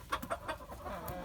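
Chickens cluck in a backyard flock kept for breeding, with a rooster among them; several short clucks come in quick succession and then trail off, moderately close, with no talk.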